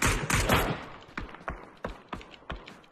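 Rapid bursts of video game gunfire crack out in a tactical shooter match, a dense volley at first followed by spaced single shots, moderately close and loud with no talk over them.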